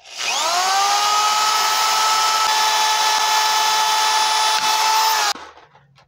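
A power drill bores through metal conduit during installation of a heavy-duty balloon stand frame. The whine runs loud and steady for about five seconds, then cuts off sharply as the bit finishes, followed by faint handling noise.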